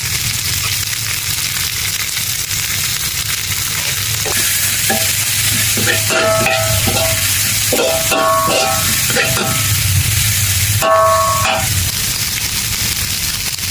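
Continuous loud sizzle of chilies, sliced fingerroot and herbs stir-frying in a pan, broken by repeated clanking scrapes of a utensil stirring against the metal.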